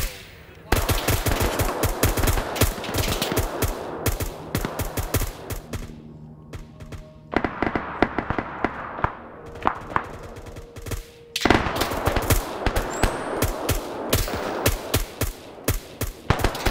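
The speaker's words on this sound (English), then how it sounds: "Now there's a little bit of short range fire here." Close, loud bursts of automatic rifle fire in a military video game, rapid rattling volleys broken by brief pauses, with a quieter stretch before firing resumes heavily.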